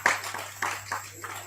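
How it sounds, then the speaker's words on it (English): A small gathering at a devotional talk claps briefly to welcome first-time visitors, a few scattered, sparse claps with pauses between them, near and modest in loudness over a steady hum. "Big applause."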